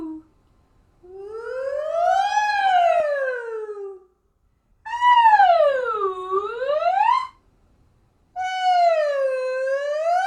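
A human voice imitates a siren in a vocal warm-up exercise, three long rising and falling glides separated by short silences, clear and close.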